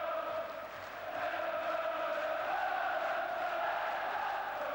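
Football crowd at a Liverpool v Spurs match singing and roaring in full voice: a dense, sustained wash of many voices, distant and steady throughout the whole stretch.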